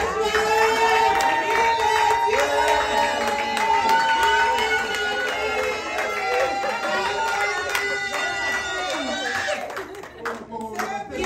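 A church congregation at a Sunday worship service cheers, claps and shouts in acclamation, a dense, sustained, lively crowd noise with many overlapping voices and applause, easing off near the end.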